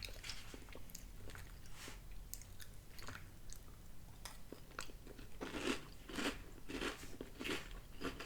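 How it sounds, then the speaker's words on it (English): Crunching and chewing of Magic Spoon cocoa protein cereal, a no-sugar chocolate cereal, in irregular close bites and crackly munches that grow louder toward the end, with no talking. "Hear the crunch."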